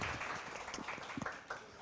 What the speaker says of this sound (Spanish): un aplauso para Herve también, por favor